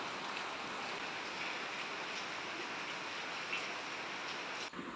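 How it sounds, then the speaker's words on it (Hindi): Heavy rain pours steadily outside a home, with water pooling on the road and reaching the balcony, a dense, even hiss that holds at constant loudness and cuts briefly near the end. "पीछे देख सकते हैं काफ़ी तेज़ बारिश होने लगी।"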